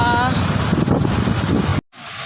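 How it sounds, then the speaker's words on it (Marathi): Outdoor wind buffets the microphone with a loud, rumbling roar under brief talk, then cuts off suddenly near the end, leaving a quieter gusty hiss. "वारा तर मस्त सुटला आहे"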